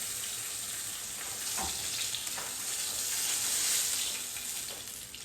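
Tilapia frying in hot oil: steady sizzling and crackling, close and moderately loud, with occasional faint clinks.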